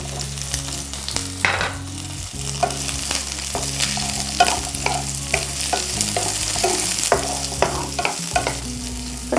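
Shallots and bitter gourd sauté in a hot pan, with a steady close sizzle and frequent scraping stirs and no talking.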